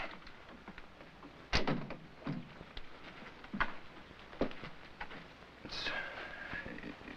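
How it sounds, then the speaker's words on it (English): An indoor door in a 1951 horror film setting closing with a sharp thud, followed by a few further knocks and creaks against a faint rain-like background hiss. "What happened? Close the door."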